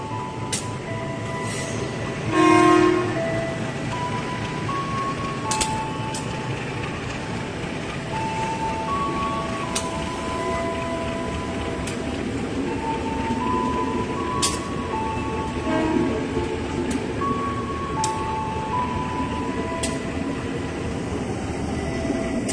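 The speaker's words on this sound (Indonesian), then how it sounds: "Jalur 5 berangkat KRL komuter lain tujuan akhir stasiun Jakarta Kota." A KRL commuter train departs Bogor station in Indonesia, with a short horn blast early on over a continuous station and rail rumble and scattered faint tonal sounds.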